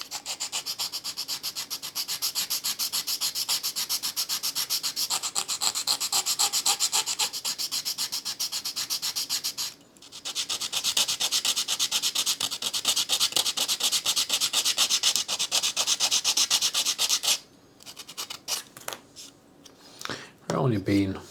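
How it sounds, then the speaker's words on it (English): Rapid rhythmic sanding strokes rubbing excess plywood off lapstrake planks on a 1/35-scale Titanic lifeboat model, close and continuous, with brief pauses near ten and seventeen seconds. "I'm going to start to just take some of this excess material off."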